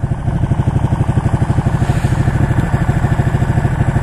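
A Ducati motorcycle engine running steadily nearby, a loud, low, lumpy pulsing throb at a constant pace with no talking.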